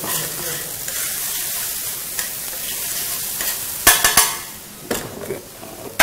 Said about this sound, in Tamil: அது கொஞ்சம் பெப்பர் ஊற்றி விட்டுக்குவோம். நல்லா ஃப்ரை பண்ணி நல்லா ஃப்ரை ஆகிடுச்சு.